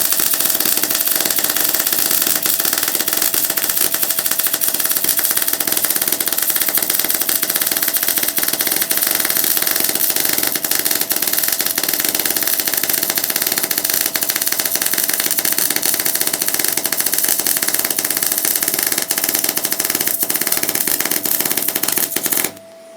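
A MIG welder runs a fillet weld on 3mm steel plate, giving a continuous, close crackling buzz that holds steady for over twenty seconds before cutting off abruptly.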